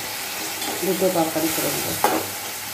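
Salted prawns sizzle in a hot pan with a steady hiss, plus a brief clink near the end, while someone talks over the frying.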